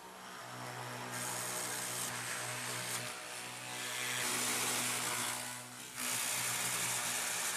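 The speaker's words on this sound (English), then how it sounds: "Drill holes for the core." Power drill boring holes in wood for a core strip in a woodworking factory, a steady loud machine whine with harmonic hum running continuously, shifting slightly in pitch and intensity near the end, with no talking.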